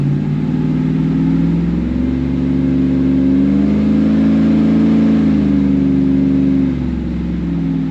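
An LS V8 car with an upgraded intake accelerates under load, a steady loud engine drone with harmonics rising slightly then easing, continuous and close throughout.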